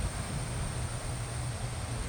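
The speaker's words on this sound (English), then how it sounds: "It gets closer, closer, closer, and it's just all wind." Roaring, steady wind from Tropical Storm Beryl, the remnant of Hurricane Beryl, a continuous low rumbling rush like an approaching train with no break and no voices over it.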